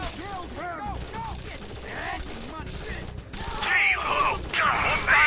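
Gunfire in Rainbow Six Vegas set in downtown Vegas, with scattered shots and mechanical weapon clatter under overlapping voices, then louder bursts toward the end.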